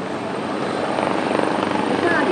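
Rescue helicopter from the Yokohama fire department flying over Yokohama Port during a water rescue drill, a steady loud rotor chop and turbine roar close by, without pause.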